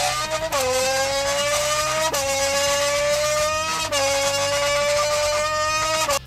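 Car engine revving with open exhaust in the Roblox Race Clicker video game, a loud continuous droning whine that repeatedly climbs in pitch and drops back as the car shifts through gears.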